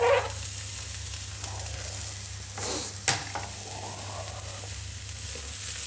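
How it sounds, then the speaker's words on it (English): Chilies sizzling in a hot pan alongside browning onions, a steady loud frying hiss with a few stirring scrapes and one sharp clink partway through, and nobody speaking. "Chilies going into a pan."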